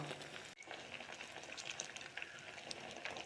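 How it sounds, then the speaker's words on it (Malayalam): Herbal hair-dye mixture of hibiscus and njavara leaves boiling in a pot on the stove, giving a steady, close bubbling hiss with scattered small pops, with one momentary dip near the start. "ഞവരേലയും നല്ലവണ്ണം തിളച്ച് വരുന്നുണ്ട്"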